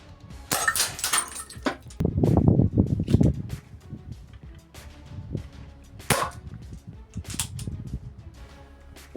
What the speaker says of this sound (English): this badass is ready to shoot some targets